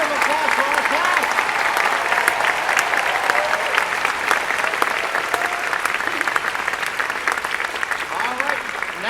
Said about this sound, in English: Round of applause for our class.